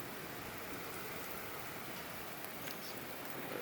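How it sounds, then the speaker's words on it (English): Steady rain falls during a strong storm, a dense continuous hiss of drops on surfaces with no breaks, moderately loud and heard alone with no talking. "this is another round of rain coming in"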